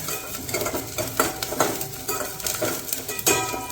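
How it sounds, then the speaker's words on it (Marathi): Onions sizzle in a pan for a Malwani fish curry while a spoon stirs them, with repeated scraping strokes and light clinks against the metal. "हे बघा भाजायला लागतो चांगलं कांदो"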